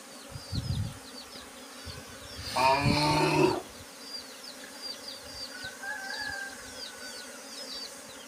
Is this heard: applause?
no